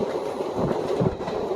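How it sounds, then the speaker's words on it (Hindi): Indian Railways passenger train hauled by a WAG 9 electric locomotive on the Mathura to Delhi route, heard from on board as a continuous rolling rumble with rhythmic wheel clatter, close and steady, no talking. "वैसे अपनी ट्रेन में तो WAG 9 लगा हुआ है।"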